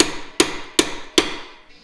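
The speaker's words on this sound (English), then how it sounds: "If you're using 2 hands to hit this hammer, stop." A hammer strikes a pilot bearing out of a Mazda RX-7 FD rotary engine's crank during clutch and flywheel work, four sharp metallic blows landing at an even pace, loud and close with brief ringing after each.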